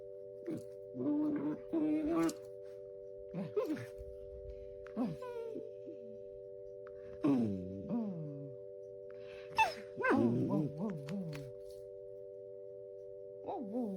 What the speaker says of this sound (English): look at that tiny little bark